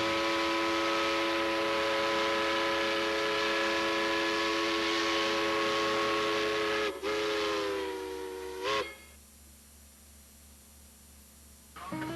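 Tweetsie Railroad steam locomotive, running in a 40th anniversary celebration, sounds a long, loud steam whistle with steady chuffing and rumble beneath. The whistle bends and cuts off, followed by quieter track noise and a brief final whistle blast.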